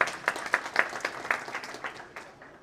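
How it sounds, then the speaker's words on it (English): A short burst of applause from a small group at a Correctional Service Week event, claps sharp at first, then thinning and fading out within a few seconds. "A round of applause for that."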